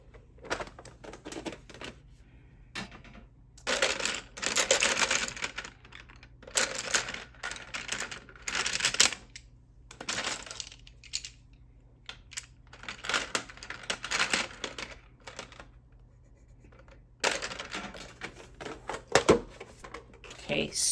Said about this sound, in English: a good base before I add the colored pencil. So let's do that now.